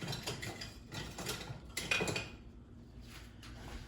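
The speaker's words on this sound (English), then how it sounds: "and whisk this all together" A whisk clinks and scrapes against a bowl while whole milk is beaten into a custard filling, with irregular short metallic bursts separated by brief pauses, close and fairly quiet.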